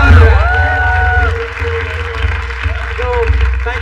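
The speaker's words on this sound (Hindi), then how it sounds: "तो एक बार जोरदार तालियां बजाओ।" A studio audience at a televised talent show breaks into loud applause and cheering, with whoops and raised voices rising over the clapping for a few seconds.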